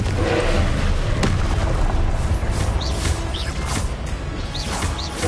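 The Confringo blasting spell in Hogwarts Legacy erupts in a loud, rumbling explosion with crashing debris, followed by a steady roar that slowly fades, with small magical whooshes scattered through.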